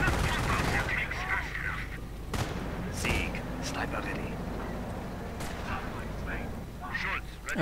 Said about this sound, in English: Further anti-tank guns firing.